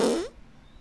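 A man blows a wet, sputtering fart imitation with his mouth, loud and close, lasting about a quarter second before it cuts off to near silence.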